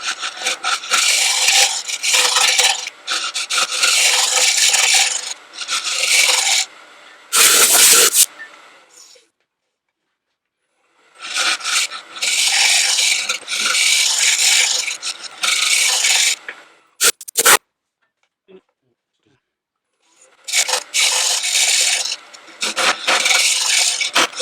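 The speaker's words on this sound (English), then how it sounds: "I've moved on to the 23mm scraper" A 23mm scraper cuts a wooden pot on a router lathe, making loud rasping bursts of several seconds separated by pauses, with brief sharp knocks between passes.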